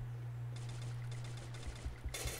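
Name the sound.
gunfire in the video game Free Fire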